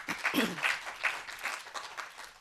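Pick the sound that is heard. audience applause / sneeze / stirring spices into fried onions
audience applause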